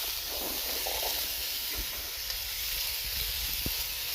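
Dry beans and pasta for a rustic soup are dumped into a hot pan, producing a steady close hiss with a few soft knocks and rattles scattered through it.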